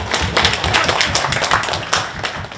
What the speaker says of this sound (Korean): 1조 발표를 큰 박수와 함께 청해듣겠습니다